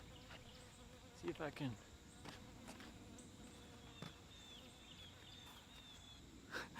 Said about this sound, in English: Why are the bees so heavy out here, man?